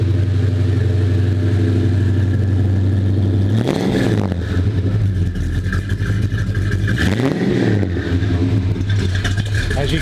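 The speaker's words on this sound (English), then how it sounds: "It's got that big block sound." A 1970 Dodge Coronet R/T convertible's big-block V8 idles with a deep, loping rumble, close and loud, broken by two quick throttle blips that swell and fall back to idle.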